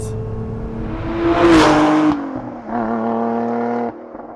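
A powerful Lotus Emira's Toyota 2GR supercharged 3.5-liter V6 revs up loudly nearby, its supercharger whine climbing then easing, before settling into a steady, throaty running hum.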